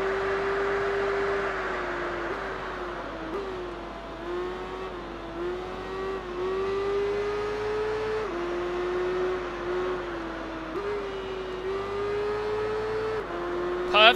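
A Kawasaki motorcycle engine in the racing game Tourist Trophy holds a steady high whine, stepping up through gear changes in a sawtooth pattern of rising pitch and brief drops, loud and continuous throughout.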